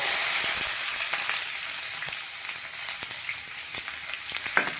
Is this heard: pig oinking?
no